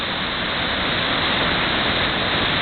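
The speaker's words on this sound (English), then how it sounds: "Thundering Waterfalls just goes over that precipice." A thundering waterfall pours over a precipice beside a stream in Canada's Northwest Territories, giving a loud, steady, unbroken roar with no voices.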